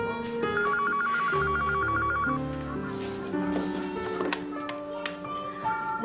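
A telephone rings in a home in a Vietnamese crime drama, its warbling electronic trill repeating steadily for about two seconds over background music, then giving way to music and voices.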